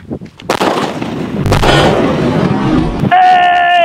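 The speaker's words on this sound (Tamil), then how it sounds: "ஸ்பெஷலாக அஜய் ஒரு வெடியை போட்டு" Firecrackers burst in a rapid crackling string, loud and close, followed by a sharp rising whistle-like tone at the end.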